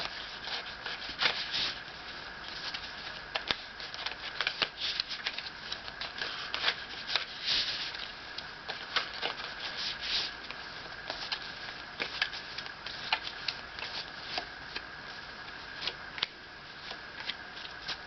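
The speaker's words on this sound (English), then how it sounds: "now I'm going to pull some moon oracle cards" Moon oracle cards being shuffled by hand during a full moon tarot reading, a steady papery riffling and rubbing that runs continuously at close range with no voices.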